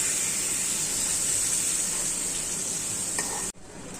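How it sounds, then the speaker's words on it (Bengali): Fish being sautéed and stirred with spices in a pan gives a steady close sizzle and hiss with light stirring scrapes, cutting off abruptly near the end. "মাছকে আমি কষায় রান্না করব, ভাজবো না"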